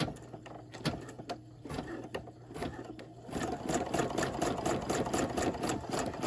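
An embroidery machine stitches on a jumbo hoop over denim, a steady quiet mechanical whir with rapid needle clatter that grows fuller and busier about halfway through.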